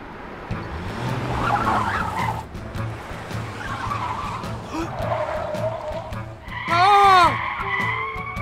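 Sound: cartoon car tires skidding

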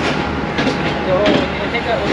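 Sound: Fareed Express train running on branch line

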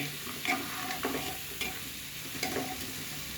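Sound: frying rice and moong dal in ghee

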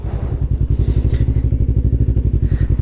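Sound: Yamaha R3 sports motorcycle engine

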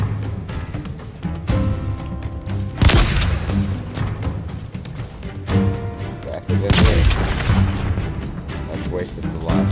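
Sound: gunfire in Halo Infinite video game

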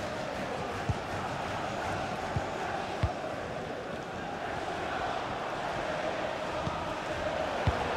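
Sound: stadium crowd noise in the video game FIFA 21

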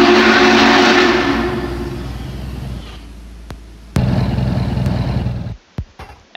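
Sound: Denver & Rio Grande Western engine 14 departing

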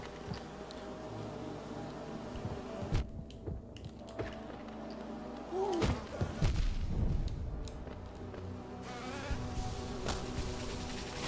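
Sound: big fat bee enemy buzzing in video game Hollow Knight

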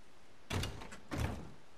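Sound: door opening in video game Days Gone

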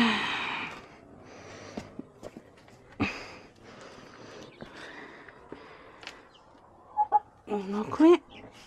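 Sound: chickens clucking

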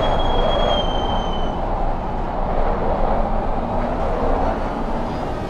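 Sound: tires squealing in racing video game

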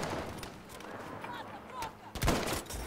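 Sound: sniper rifle gunshots in the video game Battlefield V

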